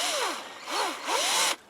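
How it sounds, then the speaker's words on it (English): A cordless drill bores into a birch tree for sap tapping, whirring in three short spin-ups with pitch sweeping down and up as it loads and frees, close and fairly loud before cutting off. "So you take your drill"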